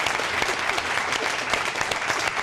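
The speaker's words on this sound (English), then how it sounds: "Let's give a nice round of applause." A roast audience in a banquet setting breaks into steady, dense applause, many hands clapping together at a fairly close, even level throughout.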